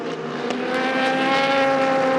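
The M Racing number 68 car in the 4 Hours of Portimão endurance event (European Le Mans Series) roars along the main straight, a loud, steady engine tone held throughout with no talk.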